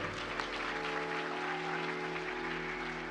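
A devotional gathering's audience claps together in a sustained, even patter of applause, moderately loud and continuous, with a faint tonal hum beneath and no speech.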